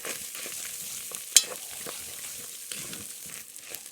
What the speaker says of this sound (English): And we'll just stir that in.